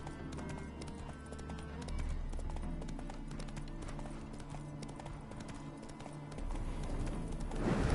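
Horse hooves in the video game The Witcher 3, a steady clip-clop gait trotting along continuously over a soft ambient background, moderately close.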